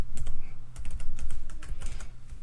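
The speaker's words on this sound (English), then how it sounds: "And we'll type in a famous site." Fingers type on a computer keyboard at a desk, a quick irregular run of close, clicky keystrokes in bursts over about two seconds, with no talking.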